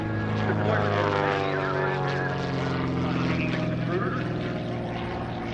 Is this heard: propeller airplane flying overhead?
yes